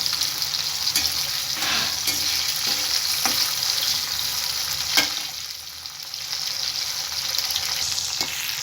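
Capsicum fries in oil with a steady close-up sizzle, punctuated by periodic taps and scrapes of a spatula stirring the pan, briefly quieter near the end before the frying resumes.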